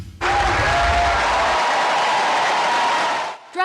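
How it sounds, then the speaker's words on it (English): Steady applause from a crowd in Albany welcoming New York Governor Kathy Hochul, dense and even, starting abruptly and holding for about three seconds before cutting off. "Governor Kathy Hochul was welcomed by applause in Albany"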